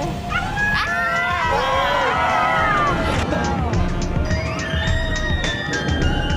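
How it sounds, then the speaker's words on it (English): Ride-goers at an amusement park in Guangzhou or Shenzhen scream and shriek in overlapping, wavering cries, loud and continuous over a busy crowd roar. "Screams of delight from thrilled ridegoers are juxtaposed with screeching bagpipes and jolly Irish music."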